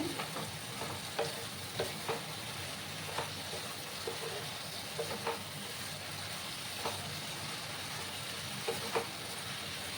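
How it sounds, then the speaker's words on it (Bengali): Small shrimp (kucho chingri) sizzle steadily in a pan as a spatula stirs them, each stroke a soft scrape or tap against the metal over the continuous frying hiss, heard close with no talking. "ভালো করে আবার আমি নাড়াচাড়া করলাম।"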